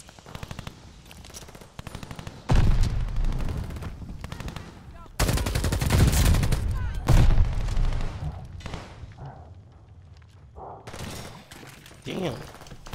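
Lienna 57 LMG firing in Call of Duty Vanguard multiplayer, with loud sustained automatic bursts that come in several long volleys and short pauses, mixed with other gunfire and voices talking over the action.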